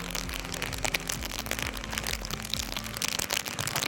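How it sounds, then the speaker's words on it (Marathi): Heavy monsoon rain pelts down on a motorbike ride along a road from Mahad to Mandangad, a dense crackling patter with steady wind and engine rumble underneath. "सकाळपेक्षा डेंजर पाऊस आहे हा."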